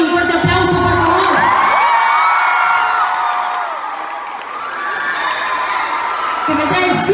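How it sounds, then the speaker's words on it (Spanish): Concert crowd in Tel Aviv applauding and cheering loudly, with shrill shouts, whoops and whistles rising and falling over steady clapping, swelling again near the end. "un fuerte aplauso, por favor"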